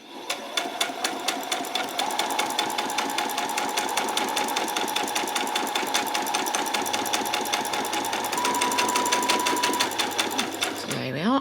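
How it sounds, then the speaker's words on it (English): A sewing machine stitching a peasant top, running steadily in a fast, even mechanical patter up close for several seconds before stopping, with a voice speaking over it. "we're going to run the stitches exactly the same right the way along"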